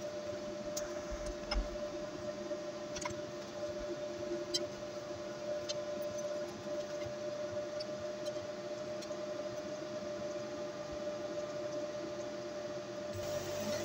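Sculpfun S30 5W laser engraving MDF or plywood, a steady mechanical whir and fan-like hiss with a sustained hum and faint ticking clicks, continuous and moderately quiet throughout with no voices.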